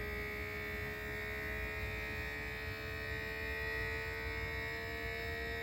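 A small handheld vacuum pump for a food saver, sealing a bag of dehydrated hamburger meat, runs with a steady, close electric hum and buzz that holds constant throughout without pauses.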